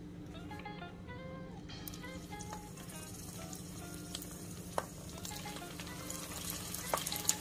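Shrimp rolls frying in a pan of oil, a soft steady sizzle with occasional crackles and pops, faint and close, with a voice speaking quietly over it.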